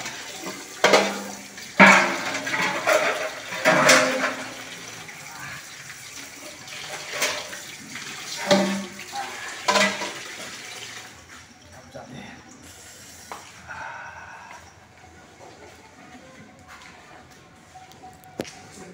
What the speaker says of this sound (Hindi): बर्तन धो लेंगे।